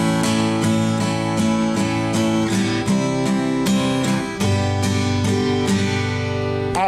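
An acoustic guitar strums in a steady down-up rhythm, close and loud, moving through three chord changes.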